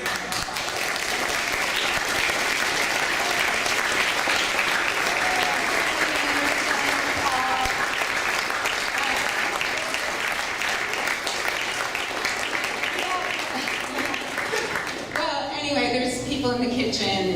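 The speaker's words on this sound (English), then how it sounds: "we just wanted to really give them an extra round of applause" An audience applauds chaperones at a welcome event, sustained loud clapping that carries on steadily for many seconds before a voice speaks at the end.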